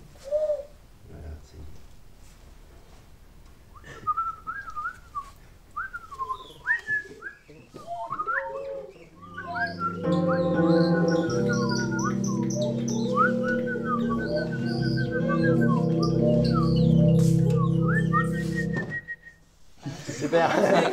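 Children at a school music session imitate birdsong by whistling, with rising and falling chirps and warbling calls. Several whistles overlap in the middle into a dense, sustained chorus, and scattered voices can be heard around them.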